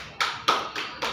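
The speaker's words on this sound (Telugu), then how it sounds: "మరి క్లాప్స్ కొట్టాలి కదా" Children clapping their hands at home, four crisp, close claps spaced evenly in a quick rhythm with no talk.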